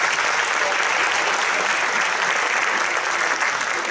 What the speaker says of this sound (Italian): Un applauso per Clarissa, grandissimo.